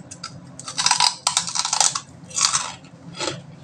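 Crispy fried pork skin chicharon is bitten and chewed close up, with a run of loud, sharp crunches in bursts separated by brief pauses and no talking.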